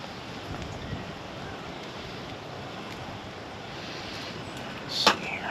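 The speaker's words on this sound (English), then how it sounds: "This wind will cooperate and quit trying to blow my fire out" Wind blows steadily across an open-air campsite with a cooking fire, a broad continuous rush of gusts buffeting the microphone, with a sharper gust toward the end.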